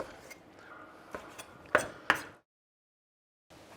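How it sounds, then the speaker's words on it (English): A knife chops half-cooked crayfish (rock lobster) meat into chunks on a board, giving a few sharp, close thuds and taps followed by a brief silence. "we're now going to chop this cray meat up into nice sized chunks"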